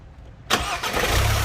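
After a short quiet moment, a Mazda BT-50 Pro pickup truck engine with a failed fan clutch cranks and catches, then settles into a loud, steady idle rumble.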